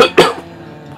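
A couple of sharp, close coughs, loud and abrupt, followed by a short pause.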